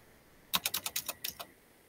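About ten quick keystrokes on a computer keyboard typing code, clicking in a fast, slightly uneven burst close up, alone against a quiet background.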